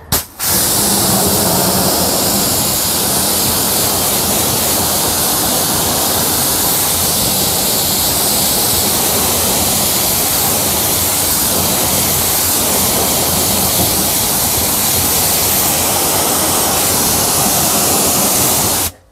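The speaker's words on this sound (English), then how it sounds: "Right, we're now going to rinse off." Water spray rinsing a car wheel and tire after a brake and wheel cleaner has been applied, a steady loud hissing jet running continuously and close to the microphone, with no talking.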